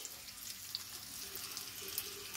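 Egg mixture poured from a bowl into a frying pan while making fried eggs with tomato and cheese, a soft continuous watery rush and faint sizzle, quiet and close, with no talking.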